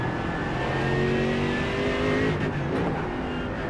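GT3 race car engines at the Red Bull Ring in a racing game drone loudly and steadily, one engine holding a high rising note before a brief dip, with no voices.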